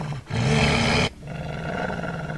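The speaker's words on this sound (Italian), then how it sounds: "sentite questo suono attorno a voi. Un lupo zombie." A deep, harsh zombie wolf growling roar surges loudly for under a second, then fades into a low, rumbling snarl.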